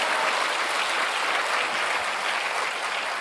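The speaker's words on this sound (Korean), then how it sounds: "성령 하나님께 영광의 박수 올려드립니다" Steady, full applause from a church congregation fills the room, a dense wash of clapping that holds even throughout.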